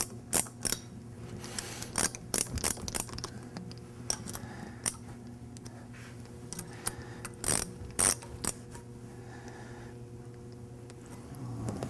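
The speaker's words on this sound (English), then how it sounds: "we're just going to bring these down even and torque them to 35 foot-pounds" Ratchet clicking in short bursts while torquing bolts to 35 foot-pounds on a waterjet intensifier being serviced; sharp pawl clicks come in irregular clusters, close and fairly loud over a steady low machine hum.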